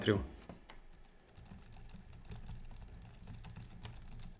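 Soft, rapid clicking of a computer keyboard typed in front of a microphone at under 40 cm, a quiet irregular patter of keystrokes following a brief louder bump at the start.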